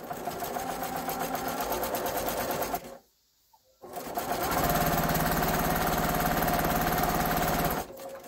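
A sewing machine stitches quilt pieces together with a quarter-inch seam, running steadily and close, pausing for about a second, then whirring on again at an even pace.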